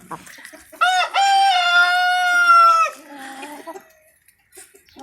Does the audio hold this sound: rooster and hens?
yes